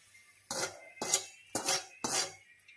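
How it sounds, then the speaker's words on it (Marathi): Poha chivda mixture being stirred with a spoon in a metal bowl, four distinct scraping clinks spaced about half a second apart, close and clear with no talk. "छानपैकी मिक्स करूया।"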